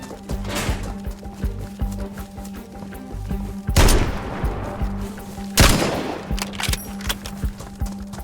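Gunfire in the survival game DayZ, a couple of sharp broadband bursts cracking out amid faint background ambience, with no speech.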